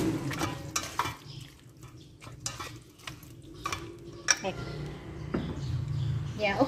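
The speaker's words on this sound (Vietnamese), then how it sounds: "chiên sơ qua cái phần khoai để nó dậy cái mùi thơm của khoai nè" Marinated Japanese sweet potato pieces are briefly fried in a pan, with scraping stirs and a low sizzle under steady talking nearby.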